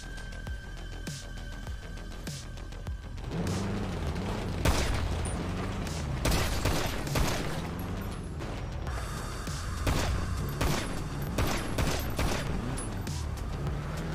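Rapid bursts of gunfire in GTA V roleplay, with booms and mechanical clatter, repeated volleys over a steady low rumble for several seconds.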